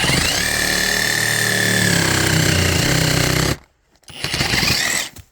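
A sabre saw cuts tree branches about 5–6 cm thick: a loud, continuous buzzing reciprocating rasp that cuts out briefly near the end, then restarts in a short burst.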